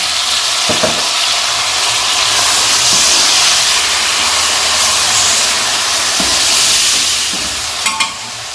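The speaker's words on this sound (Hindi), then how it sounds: "लहसुन और अदरक सुनहरी हो गया। अब हम इसमें टमाटर शामिल करेंगे।" Loud, steady sizzle of tomatoes hitting golden garlic and ginger in a hot pan, with a few stirring knocks scattered through and a brief clatter near the end.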